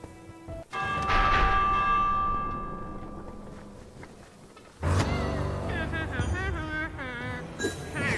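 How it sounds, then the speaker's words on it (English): The warning bell in Minecraft Dungeons sounds with a loud, sustained metallic ring that slowly fades. A second burst of ringing game sounds follows, and voices talk over the game noise. "I'll ring the warning bell"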